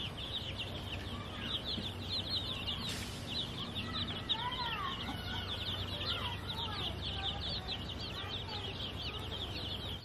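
Chicks five to six weeks old rest in the shade, with steady high chirping and peeping and a few clucks over a low background hum, continuous and moderately near.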